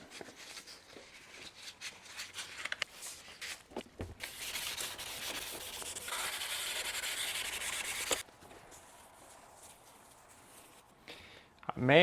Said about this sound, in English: Now we're going to start wet sanding, starting with 400 grit.